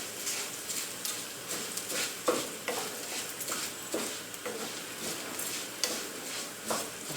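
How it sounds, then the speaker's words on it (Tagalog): Long grain rice stirred in a pan with butter and sautéed shallots over medium-low heat, with a soft continuous sizzle and repeated scraping strokes of the spoon, close and fairly quiet. "We will coat the rice with butter and the sauteed shallots."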